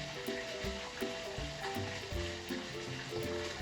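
Kangkong and alugbati (Malabar spinach) frying in a pan give a steady, close sizzle and crackle, with soft clinks and stirring sounds over quiet background music.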